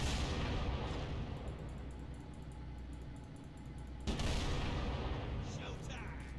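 Gunfire in a Halo campaign: a steady, dense roar of rapid shots and explosive bursts running throughout, with a sharp fresh volley around the four-second mark, all loud and continuous.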